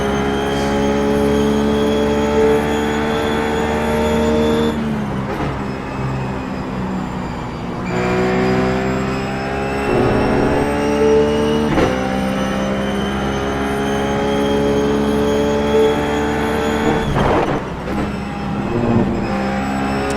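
Ruf GT3 race car engine at Silverstone in the iRacing sim, a loud steady high-pitched drone broken by sharp gear changes and brief drops in revs as it brakes down through the gears, with no talking.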